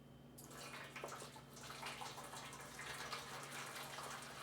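Water pours steadily into a pot while making flan, a continuous close gushing and splashing stream, fairly quiet and unbroken throughout.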